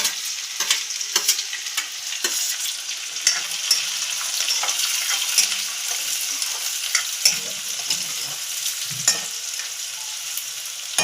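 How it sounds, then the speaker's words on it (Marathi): Onions fry in oil until browned with a steady, bright, close sizzle, punctuated by frequent light clicks and scrapes of stirring. "कांदा तोडते आहे, मस्त लाल होऊ द्यायचं."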